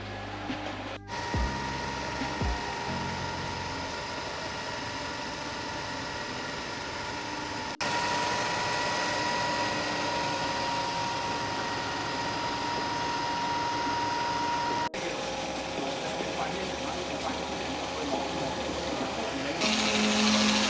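Concrete pump running on a residential construction site, a steady droning mechanical whine with a tonal hum, continuous and fairly close, shifting level slightly in a few abrupt steps.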